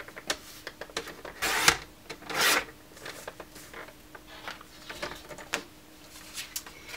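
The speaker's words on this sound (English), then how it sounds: "quarter turn that cardstock and just trim it at 8 1/4 again" Rotary paper trimmer slicing through cardstock at 8 1/4 inches for a folding explosion box, heard as two or three short scraping cuts with small rubs and paper handling in between, close and fairly quiet.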